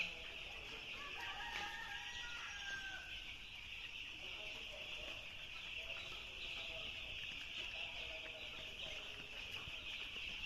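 Six-day-old farm chicks on a poultry farm give faint, high cheeping under a steady hiss of background noise, with a few brief chirps standing out near the start and middle.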